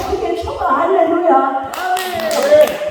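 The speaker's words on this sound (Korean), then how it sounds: "박수 한번 쳐드려봐. 더 크게 쳐봐." A church revival congregation claps hands in scattered bursts while voices talk and call out over the clapping.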